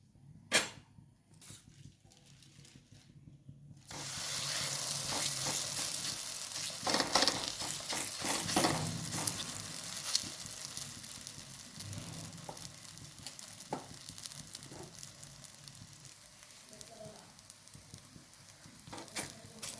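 Mango and coconut holige, a sweet stuffed flatbread, frying in oil on a pan, with a steady close sizzle and crackle that rises after a quiet start and carries on evenly throughout, no one talking.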